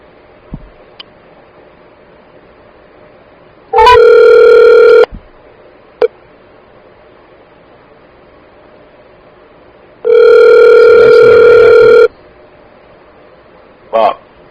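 A phone rings back while placing a call: two loud electronic ringback tones, one short and one longer, separated by silence and a few faint clicks.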